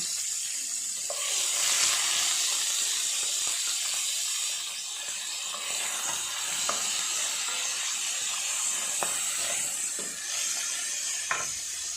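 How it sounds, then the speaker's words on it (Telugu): Fish pieces coated with turmeric and salt shallow-fry in hot oil for Andhra-style fish stew, giving a steady, close hiss and sizzle throughout with a few faint utensil clicks and no talking. "ఆయిల్ వేడెక్కాక ముందుగా పసుపు ఉప్పు కలిపి పెట్టుకున్న చేపలను లైట్గా వేగం వేసుకోవాలి"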